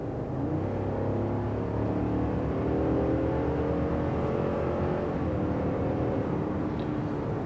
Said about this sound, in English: I'm gonna push the accelerator for a very short period of time to just listen and hear the engine noise